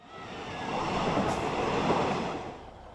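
A passenger train in Thailand rolls along steadily, a continuous broadband rumble that swells and fades slightly, with a brief high squeal partway through and no voices.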